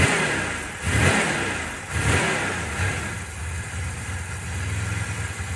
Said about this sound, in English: Let me show you my rev issue.